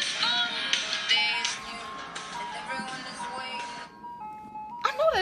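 An ice cream truck plays its melodic jingle from nearby, loud and bright, with a short gap before a second burst of tune near the end; background voices are faintly present.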